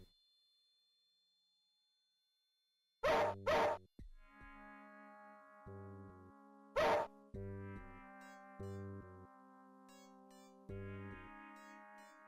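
A dog in the retro computer game Les Manley: Lost in L.A. gives a few short digitized barks, close and loud, among plain synthesized tones that step up and down.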